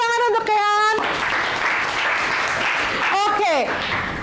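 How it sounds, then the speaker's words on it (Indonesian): Applause and clapping from a classroom of students for a classmate, a steady broadband patter lasting a few seconds, with a teacher's voice speaking briefly before and after. "Beri tepuk tangan untuk Kean."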